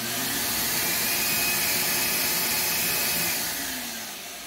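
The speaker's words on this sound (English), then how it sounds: "you can also hear the vacuum will nice and smoothly spool up" A workshop vacuum started through a soft-starter ramps smoothly up to a steady, loud rushing whoosh that holds for several seconds, then eases off slightly toward the end, with no talking.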